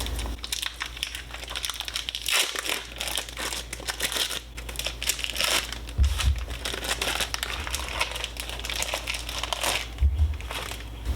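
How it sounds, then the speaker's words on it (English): Plastic packaging of beef smoked sausages is ripped open, giving loud, close crinkling and crumpling that runs steadily for several seconds, with a few louder tearing bursts. "I've just got beef smoked sausage, and just gonna open them"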